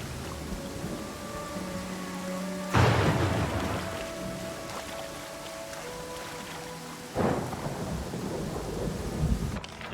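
Rain and rolling thunder in the fantasy RPG Pathfinder: Kingmaker, with two loud thunder crashes breaking over a steady hiss of rainfall and a low ambient bed, no voices.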